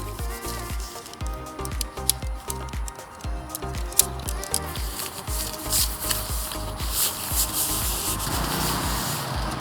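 A tent pole slides and rattles as it is pushed through the fabric sleeve of a Naturehike Butterfly Cross two-person tent, a continuous close scraping and rustling with many small knocks and rubbing noises.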